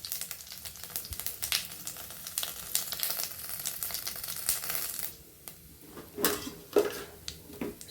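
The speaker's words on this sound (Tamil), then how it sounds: "சோம்பு நல்லா பொரிஞ்சு வரட்டும்." Fennel seeds spluttering and sizzling in hot oil in a kadai, a steady crackling hiss with sharp pops, loud and close, with a few metal clinks near the end.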